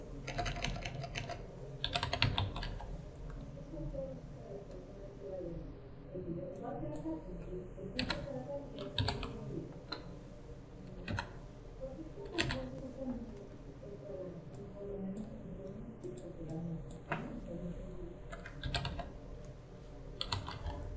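A name is typed on a computer keyboard during a fluid simulation setup, soft rapid key clicks in irregular bursts with occasional louder taps, quiet and close throughout the stretch.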